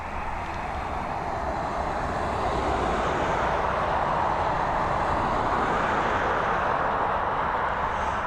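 An Airbus A321neo airliner at Dublin Airport gives a steady, broad jet-engine roar, moderately distant and continuous without pauses.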